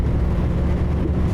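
Truck engine in Euro Truck Simulator 2, hauling cattle and bouncing along rough ground, a steady low rumbling drone throughout with no talk.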